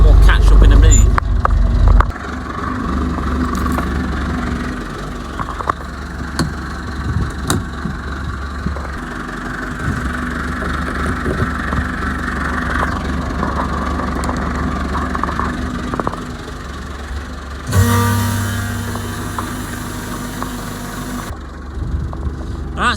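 A tractor engine idles steadily in the foreground with a low, even rumble while a silage tanker is unhitched, and the tone shifts briefly near the end.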